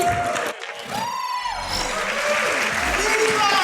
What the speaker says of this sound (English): let's give a round of applause for Kuumba, Rockman 4 minus Infinity.